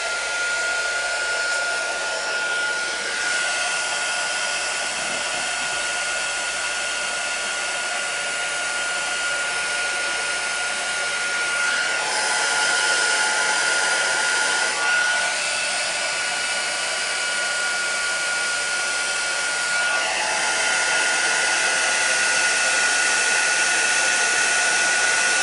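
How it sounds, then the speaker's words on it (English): A heat gun for embossing on a Stampin' Up card project blows steadily for about 25 seconds, a loud continuous airy whoosh with a hum, nothing else heard. "Put the embossing. Embossing heat gun on now."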